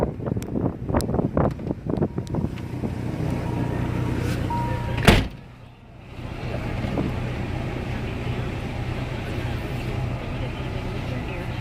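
Strong wind from a tornado storm buffets a van, producing a loud, continuous broadband roar and rumble with gusts and a sharp crackle of microphone wind noise, while voices talk over it early on.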